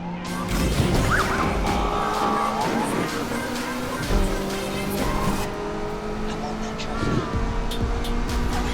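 A racing car from Need for Speed Unbound drives under constant engine roar, with changing pitch and a few screeches and impacts, while voices talk over it throughout.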